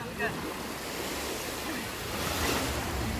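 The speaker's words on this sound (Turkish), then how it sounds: "Dalgalar bizi yakaladı." Sea surf washing ashore on a summer beach holiday, a steady broadband roar that swells slightly toward the end, with faint voices and some wind noise mixed in.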